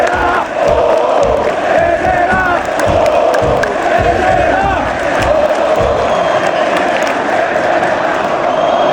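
A large football stadium crowd roars and cheers continuously as a player is substituted off, a dense, loud wall of voices with whoops and shouts sustained throughout.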